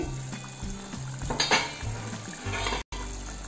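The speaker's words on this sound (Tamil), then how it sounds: "இப்போ லைட்டாக கிண்டி விடுங்க." Egg curry sizzles and fries in a frying pan as it is stirred, with bursts of scraping and spoon contact over a steady hiss, loud and close with no talking.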